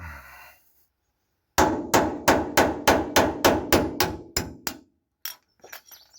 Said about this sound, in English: I'll give this a few whacks and see how it goes.